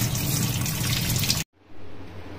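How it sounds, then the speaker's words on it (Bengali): Running tap water rinses a soaped gas stove burner part in a sink, a steady close splashing stream that cuts off abruptly midway, then resumes as a quieter, thinner flow. "সাবান দিয়ে একটু পরিষ্কার করে নিচ্ছি। এই যে ভালো করে এটা ধুয়ে নিব।"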